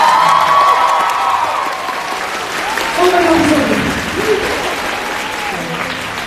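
A crowd applauds and cheers after a talk, loud sustained clapping with whoops and shouts rising over it, fairly close and continuous throughout.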